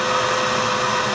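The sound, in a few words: outdoor pump sucking air from toilet bowl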